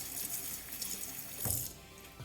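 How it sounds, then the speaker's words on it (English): Cold tap water runs steadily over a raw whole chicken being rinsed inside and out in a sink after a rub of lemon and salt, with a brief heavier splash midway. "I rub them with lemon and salt and wash under cold water, inside and out."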